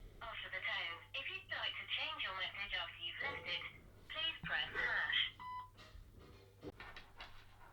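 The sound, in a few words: phone ringing with an incoming call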